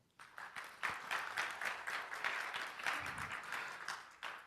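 An audience at a conference on digital reputation and legal defense against disinformation gives a speaker a welcoming round of applause, moderate and fairly close, with distinct claps rising and falling briefly.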